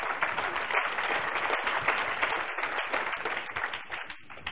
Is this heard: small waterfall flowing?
no